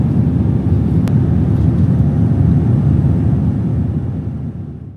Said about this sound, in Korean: 자, 이제 곧 로스앤젤레스 공항에 착륙합니다.